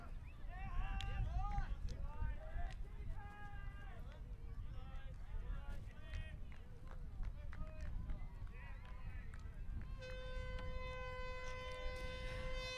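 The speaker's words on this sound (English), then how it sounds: "That's the siren." A crowd murmurs and cheers throughout an ultimate frisbee match, then a loud, steady game siren blares over the noise for the last few seconds.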